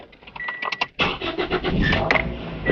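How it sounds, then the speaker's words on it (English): A car starter cranks with rapid clicking, then the engine catches and roars into a steady idle, close and loud. "And an easy start for the car."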